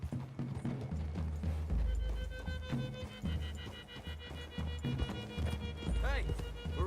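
Horses in the Western video game Red Dead Redemption 2 clip-clop at a steady trot, hooves close and rhythmic under a low music bed, with a brief whinny near the end.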